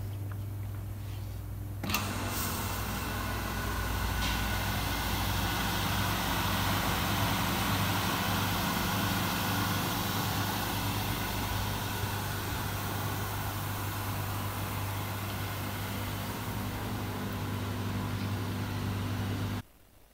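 A quick etching machine holding brass and steel plates runs under a closed lid, a steady, even mechanical hum with a low electrical drone that starts abruptly, continues unchanged, then cuts off sharply at the end.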